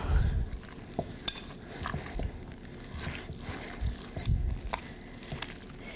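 Washed uncooked rice for dolmades being mixed in a bowl, a soft scraping and stirring with a few sharp clinks of a utensil, close and fairly quiet.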